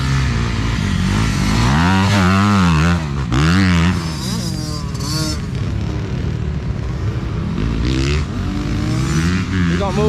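A motorcycle out on a riding track, recently troubled by a faulty stator, revs hard with the engine note repeatedly climbing and falling as it passes near. Loud, continuous, and with no talk over it.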